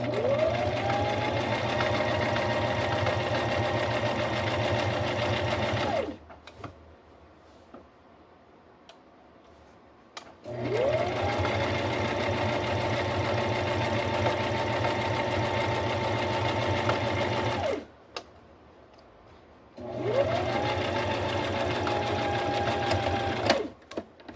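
Domestic sewing machine stitching a two-tone collar, three long runs of rapid, even whirring stitches with quiet pauses between them, close and steady.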